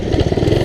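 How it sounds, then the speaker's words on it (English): An old minibike engine sputters and struggles at a rough, uneven idle, its low, pulsing chugs close and loud throughout the brief moment with no talk. "Engine almost died on me. It doesn't idle well. It's an old engine."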